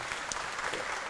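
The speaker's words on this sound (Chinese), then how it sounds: "让大家掌声鼓励一下好不好？" Studio audience applause at a Taiwanese talk show, a dense, even wash of many hands clapping throughout, close and without voices.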